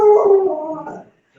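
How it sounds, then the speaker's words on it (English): Dogs howl in a long, loud, wavering cry close by, trailing off after about a second, with no talk over it. "Apologies, you might hear my dogs barking"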